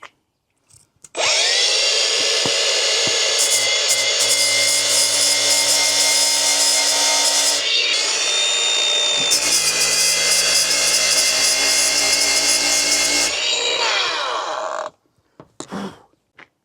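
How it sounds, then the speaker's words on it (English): An angle grinder with a flap disc cleans a metal surface inside a Ford Transit Custom van. It makes a loud, steady whirring grind for about fourteen seconds, shifts pitch midway, then spins down. "A little tickle with a grinder with a flappy disc should be enough for that."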